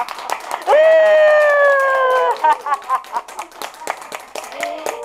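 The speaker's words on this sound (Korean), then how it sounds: "자, 지금도 계속 박수죠?" A group claps hands during a laughter exercise class, starting with a long sustained vocal shout and then breaking into brisk, irregular rounds of applause-like clapping close by.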